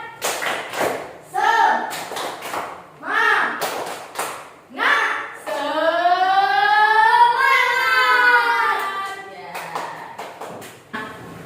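Classroom children doing a rhythmic spirit clap (tepuk semangat): sharp group claps alternate with chanted voices, then a long sung-out chant follows before a few closing claps.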